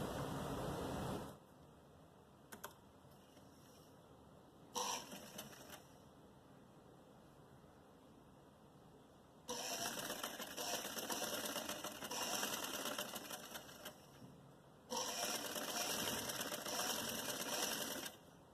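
Sewing machine running in several bursts while stitching a fine narrow edge for a lace blouse neckline, each run a steady loud whirring hum separated by quieter pauses.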